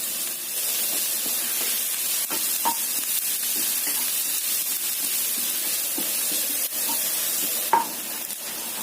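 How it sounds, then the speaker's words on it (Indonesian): Chopped garlic and shallots sautéing in a pan for a tofu dish, a steady close hiss of frying broken by light clinks and scrapes of stirring. "Kemudian kita tumis dulu bawang putih dan bawang merah yang sudah kita cincang tadi"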